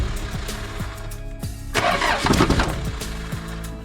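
A cold diesel engine with glow plugs, in a Mitsubishi Magna, cranks with a rhythmic churn, catches and briefly roars up before settling back into cranking, close by.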